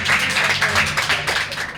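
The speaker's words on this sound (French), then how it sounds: "Les gars, non, faut applaudir là, c'est beau" A small group of students claps together, a dense rippling patter of hands that stays close and steady for under two seconds.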